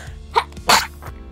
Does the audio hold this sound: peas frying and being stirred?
no